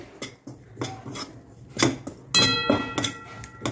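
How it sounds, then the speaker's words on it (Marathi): Gram flour (besan) roasting in ghee in a pan: a spoon rasps and scrapes against the pan in short, irregular strokes, close by, with occasional light knocks. "आता आपण तुपात मस्त भाजून घेऊ बेसन"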